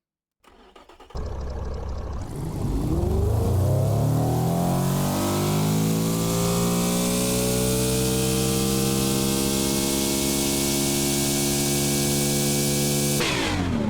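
A 2010s GT car engine in a video game cranks, catches, and revs up to a sustained loud roar that holds steady for several seconds before cutting off abruptly.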